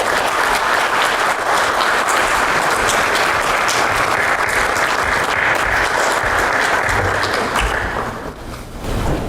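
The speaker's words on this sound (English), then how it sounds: "Please welcome him with a warm round of applause." Sustained applause from a conference audience greets a state minister at a business roadshow in South Korea, dense, steady and loud for most of the stretch before thinning out near the end.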